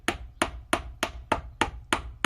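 A hammer flattens part of a handmade wire clover pendant wrapped in 24-gauge wire, giving seven evenly spaced, close, sharp metallic taps with no talking.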